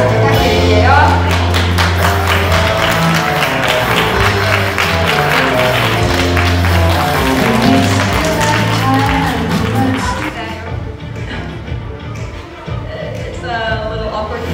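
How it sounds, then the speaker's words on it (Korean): Audience applause at a Seoul press conference for Guardians of the Galaxy Vol. 3 cast and director, dense steady clapping over music for about ten seconds, then thinning and quieter. "수고해주신 네 분께 여러분 큰 박수 부탁드릴게요."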